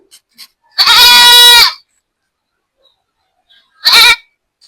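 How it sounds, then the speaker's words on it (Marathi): A goat bleats twice, a long wavering call followed a few seconds later by a shorter one, loud and close with silence between. "नाही बकरी बोकड बोकड बोकड"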